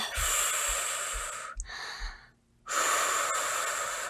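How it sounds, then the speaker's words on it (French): A person breathes heavily after a set of breathlessness physiotherapy exercises, with loud, rasping breaths that pause briefly midway and then resume. "Prends le temps de reprendre ton souffle."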